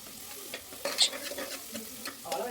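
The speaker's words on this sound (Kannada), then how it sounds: "ಈರುಳ್ಳಿ ಒಂದು ಸ್ವಲ್ಪ ಕಲರ್ ಚೇಂಜ್ ಆಗಬೇಕು, ಅಲ್ಲಿ ತನಕ ಫ್ರೈ ಆಗಬೇಕು" Onions and a pinch of sugar sizzle in a pan as a spatula stirs them, giving a soft continuous fry broken by several rhythmic scrapes and one sharper clink, close and moderately quiet.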